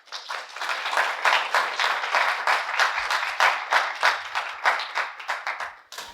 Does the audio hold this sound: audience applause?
yes